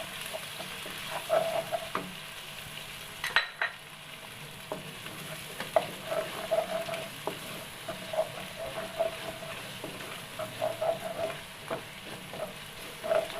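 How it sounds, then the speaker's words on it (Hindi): Garlic and ginger frying in about three spoons of hot oil for beef keema, a soft steady sizzle with occasional light stirring clinks, close and quiet, with no talk. "हमने ऑयल में 3 चम्मच ऑयल में हमने ये लहसुन अदरक डाल दिया"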